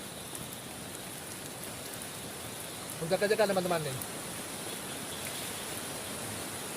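Heavy rain pours steadily at a riverside campsite, a dense even hiss throughout, with someone speaking briefly midway.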